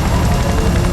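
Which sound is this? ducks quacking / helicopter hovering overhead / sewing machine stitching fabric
helicopter hovering overhead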